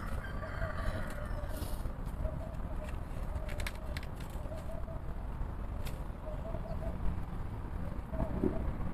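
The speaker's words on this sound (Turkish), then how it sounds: "Biraz Adana'nın meşhur kumrularının sesini dinleyelim." Soft, repeated turtle dove coos in a low, hollow rhythm in Adana, heard over steady outdoor background noise, fairly faint and at moderate distance.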